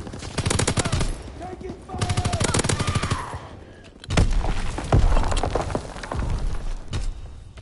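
Rapid automatic gunfire in a video game rattles in several loud, close bursts separated by short pauses, with sharp impacts and crackling debris between them.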